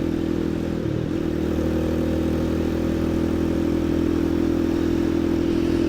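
Honda Grom clone motorcycle with a swapped ZS-190 engine riding a short test loop, a steady mid-pitched engine drone holding constant and close for the whole stretch, with faint clatter and no talk.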